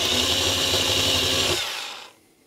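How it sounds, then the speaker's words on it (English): A power drill with an 8 mm bit bores a hole through a metal cash box, giving a loud, steady high-pitched whine that winds down and stops near the end. "I think an 8 millimeter drill."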